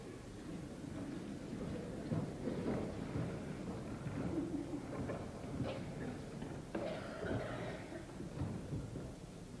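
Stage thunder in a Salzburg performance of Mozart's Die Zauberflöte, a continuous dense rumble with rolling crashes and rattles sustained throughout, loud and unaccompanied by voices.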